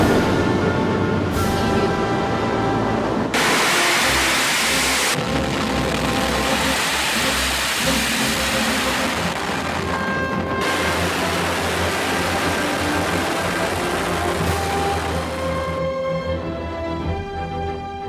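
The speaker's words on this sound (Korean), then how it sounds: "엔진 점화" A rocket engine ignites at launch, building into a long, loud, broadband roar that rumbles on steadily for many seconds, with no voices.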